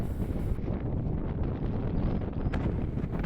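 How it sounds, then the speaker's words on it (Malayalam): Strong wind buffets a hilltop fort in Karnataka, a continuous roaring rush with gusts, close and fairly loud, with no one speaking. "ശക്തമായിട്ടുള്ള കാറ്റാണ്."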